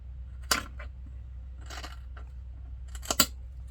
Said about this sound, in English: now we need to trim this fabric on the end